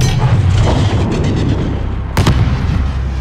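A grenade explodes during the U.S. Embassy siege in Call of Duty Modern Warfare 2019, with a sharp close blast cutting through continuous loud battle rumble and gunfire.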